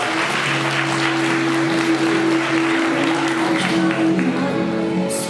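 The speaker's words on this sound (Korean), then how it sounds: "우리 신부들에게서 따뜻한 격려의 박수 부탁드리도록 하겠습니다" Warm applause from wedding guests at a musical-style wedding ceremony, steady, even clapping throughout with a sustained musical tone underneath.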